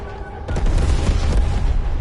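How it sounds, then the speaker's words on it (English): An airstrike lands in Call of Duty: Black Ops Cold War Zombies, a sudden heavy boom followed by a loud, rolling rumble of explosions that lasts to the end. "let's call it an airstrike for this area"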